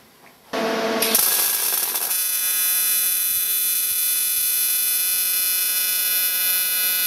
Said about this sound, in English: You can hear the frequency go up until we got to the 250, which actually sounds like a wasp in a jar.